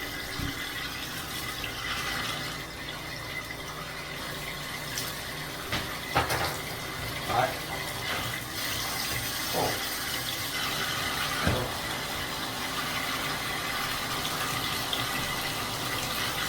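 Water runs from a repaired bathtub faucet in a steady, soft rushing stream, continuous for the whole stretch with a few small clanks and knocks over it and no talking.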